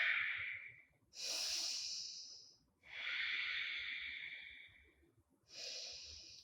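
Slow, deep breaths during a held yoga stretch: three long airy exhales with short inhales between, close and hissy, no talking.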